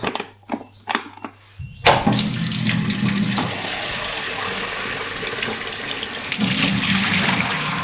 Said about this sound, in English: I'm going to rinse out my crumble bag, so I can use this for one of those instant porridges.